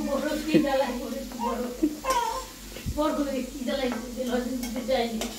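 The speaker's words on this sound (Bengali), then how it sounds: "আলু ভাজা হয়ে গেছে," Potatoes frying in oil, a soft continuous sizzle with occasional stirring clicks, fairly faint, under ongoing talk and a voice.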